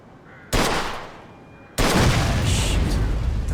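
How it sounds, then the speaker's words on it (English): Gunshots in Mafia 2 aimed at an old car wreck, two loud, close blasts of fire, each followed by a sustained rumbling roar. "that's enough shooting"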